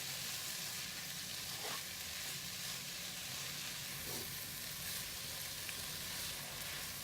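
Bhindi masala frying gently on a low flame while being stirred: a continuous soft, even sizzle and hiss with occasional faint spoon scrapes, no talking.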